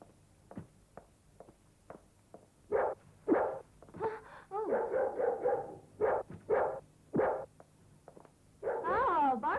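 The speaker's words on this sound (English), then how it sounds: "Oh, bark at me, will you?" A dog barks in a run of sharp, separate woofs at close range, some yipping and whimpering in between, with a voice mixed in among the barks.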